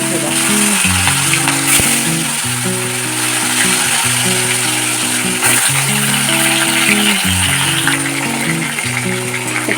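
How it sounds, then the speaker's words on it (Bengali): Food frying in hot oil in a wok, a loud continuous sizzle with a repeating mechanical hum layered underneath, close and steady throughout. "একটু ভাজা হোক।"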